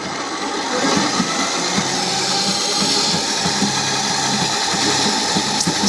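An Ooni Halo Pro spiral mixer fitted with a paddle runs steadily, a loud, close mechanical whir with rhythmic grinding and clicking underneath, starting up after a quiet moment.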